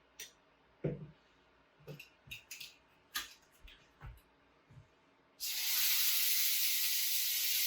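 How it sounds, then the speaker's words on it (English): Rouladen sear in a very hot pan: a few clattering knocks of handling come first, then a loud, steady hissing sizzle starts abruptly and continues to the end. "we're just adding a little sear to it, just around it"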